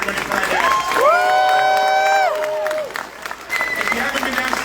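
The crowd at The Walking Dead panel at Saratoga City Comic Con 2024 breaks into loud applause and cheering, with several long rising whoops ringing out over the clapping before it tapers off.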